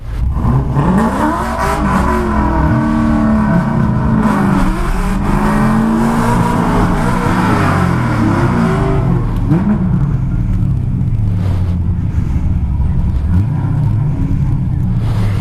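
A Chevrolet C5 Corvette's V8 roaring loud and close in competitive racing mode, revving hard with rising and falling sweeps, then settling into a rough rumbling idle with a few blips toward the end, no speech.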